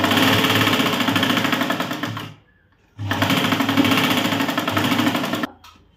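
Sewing machine stitching a blouse with tucks, two loud, fast, steady runs of stitching close up separated by a short pause, ending abruptly, with no talk over the machine.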